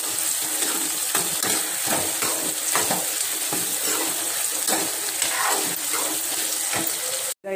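Onions and tomatoes sautéing with a little salt in a pan for brinjal kulambu, a dense steady sizzle punctuated by rhythmic scraping strokes of a spatula, close and with no talking.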